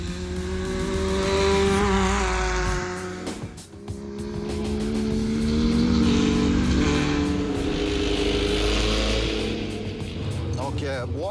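Porsche 911 with a seven-speed PDK dual-clutch gearbox driven flat out on a race track, engine climbing through gears with quick shifts and brief tire squeal, loud and near, under a voice talking.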